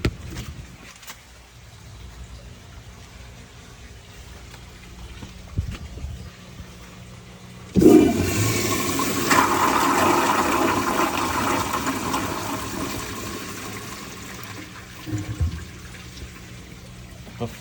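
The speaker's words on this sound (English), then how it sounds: "The flush is awesome." A 1978 American Standard Glenco toilet flushes with a sudden loud rush of water that keeps swirling and draining steadily for several seconds, close to the listener, after a quiet stretch.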